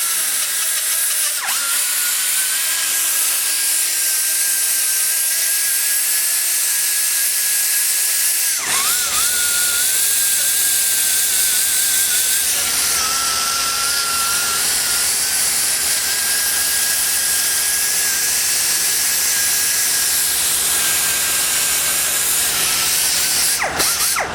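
A sanding roll grinds a port in a Chevy LT-1 cylinder head. It gives a steady, close, high-pitched motor whine that keeps running for the whole stretch and shifts in tone partway through as the load changes.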